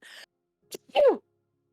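A single close sneeze bursts out after a brief intake of breath, sharp and short, with a quick voice sound just before it.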